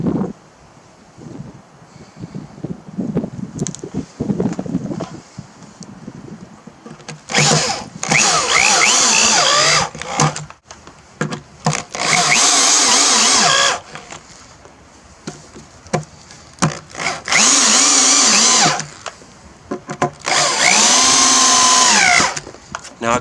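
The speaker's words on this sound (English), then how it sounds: "We'll screw it together." A power drill drives screws into a glued wooden rustic bench, four loud whirring bursts of a few seconds each with quieter handling noise between them.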